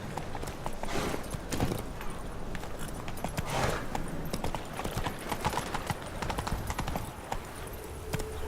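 Roach, the horse in The Witcher 3 video game, clip-clops along at a steady walk, with its hooves close and moderate over a busy ambient background, and no talk.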